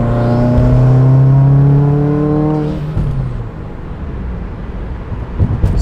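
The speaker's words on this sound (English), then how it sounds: "We're in third. I'm gonna accelerate hard." A Subaru WRX accelerates hard in third gear, its engine note rising loudly for a couple of seconds before it drops away into rumbling road and engine noise.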